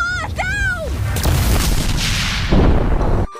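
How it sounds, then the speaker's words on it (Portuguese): A loud cartoon explosion effect in a dubbed animated show, a broad roaring blast that follows a brief voice and fills most of the few seconds before cutting off abruptly. "Explosão! Explosão!"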